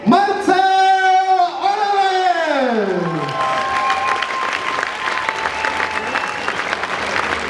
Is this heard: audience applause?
yes